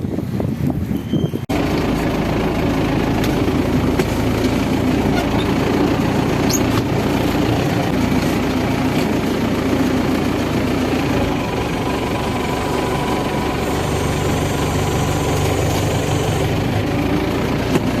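An MTZ 892.2 tractor engine idles steadily through a front loader unloading job, a continuous low rumble close by after a quiet opening second, with no talking.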